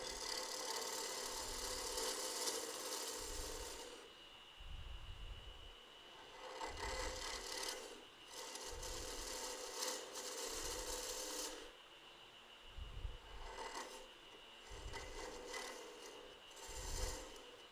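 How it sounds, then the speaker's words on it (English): A woodturning tool makes a hollowing cut into a spinning wooden ring box on a lathe, a rasping, scraping sound that comes in repeated passes with short pauses between, close and fairly loud. "And that gives me a bit of a hollowing cut."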